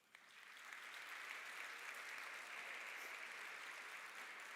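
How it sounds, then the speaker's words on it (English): Sustained audience applause from faculty, staff and students at a university gathering, a dense even wash of many hands clapping that swells in quickly and holds steady throughout. "give yourselves a round of applause"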